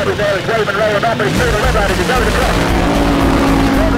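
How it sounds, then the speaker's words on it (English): Loud drag racing car engines roar continuously, rising and falling in pitch with a harsh, dense mechanical drone that fills the whole span. "Drag racers really are ear-splitting loud."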